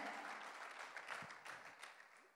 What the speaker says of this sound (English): Clap your hands for Jesus real good one time